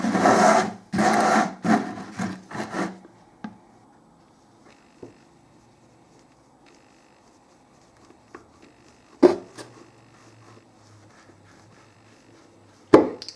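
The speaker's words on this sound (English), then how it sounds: "with the trusty old screwdriver it's just a case of pushing and twisting." A screwdriver pushes and twists into a plastic plant tub, giving a burst of scraping, rasping crunches at the start, then a few isolated sharp clicks and scrapes against near silence.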